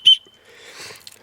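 A small keychain whistle gives one short, loud, high toot, followed by faint rustling handling noise and a light click.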